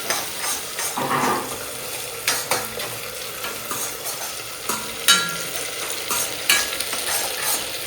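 Boiled chickpea sundal with coconut is stir-fried in a pan, giving a busy, close sizzle broken by repeated scraping and clattering strokes of a spoon against the metal.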